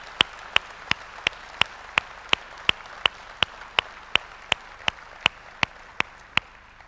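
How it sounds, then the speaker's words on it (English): A business conference audience claps in unison: about twenty crisp, evenly spaced claps in a steady rhythm, each sharp and distinct, with a quiet room between beats. "I think we owe a big round of applause to Dusty Green"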